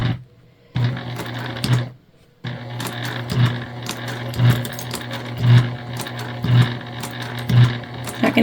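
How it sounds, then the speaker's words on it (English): A home sewing machine chugs through the thick middle seam of a fabric gift bag, its steady mechanical running broken by two short pauses and a regular heavy thump about once a second, close and alone. "You can hear my machine chugging through it"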